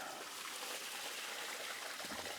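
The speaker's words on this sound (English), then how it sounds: "Now, I'll dump this water out." Warm water that had been cooling freshly harvested sweet corn pours out of a container in a soft, continuous splashing trickle, faint and steady for a couple of seconds.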